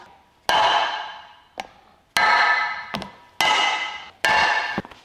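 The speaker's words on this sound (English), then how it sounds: "I think I'll punch out the holes first." Four sharp, loud hammer blows, each ringing out and fading, strike a punch through sheet gasket material for a Datsun 520 rebuild, with a lighter tap between them and no talk.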